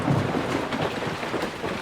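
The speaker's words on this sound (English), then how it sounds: "Oh no, it's a thunderstorm." Cartoon thunderstorm with heavy rain hissing steadily and low rumbling thunder rolling underneath, loud and continuous over the short stretch.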